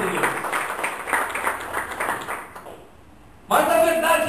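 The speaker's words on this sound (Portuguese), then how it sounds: "Pode aplaudir." A church congregation applauding during a sermon, a dense burst of clapping that fades into a short lull before a loud tone and voices return.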